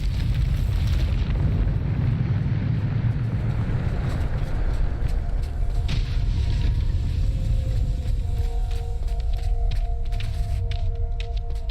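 Bombarda spell explosion in the Hogwarts Legacy video game, a heavy booming burst with rumbling low end, followed by scattered crackling debris and tonal magical hums.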